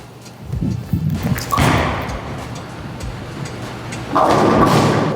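Ion Pro bowling ball released and rolling down a lane in a bowling alley, a low thud at release followed by a steady rumbling roll and a louder crash of pins near the end.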